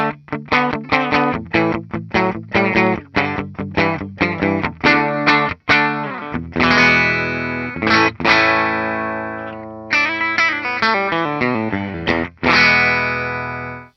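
Epiphone 150th Anniversary Zephyr DeLuxe Regent electric guitar on the bridge pickup with a bright, slightly gritty tone, first rapid picked chords in a steady rhythm, then longer ringing strums that sustain.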